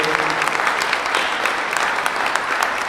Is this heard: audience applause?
yes